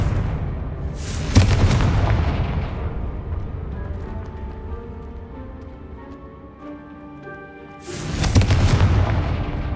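Two heavy booming explosions from the Confringo fire spell in Hogwarts Legacy, loud and close, separated by several seconds of decaying rumble and a soft sustained musical tone.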